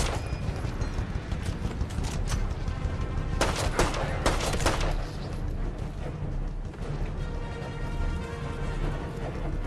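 Anti-aircraft gunfire in a war video game: loud, dense bursts of rapid shots with heavy rumbling explosions, the fire thickening into sharp volleys midway and continuing throughout.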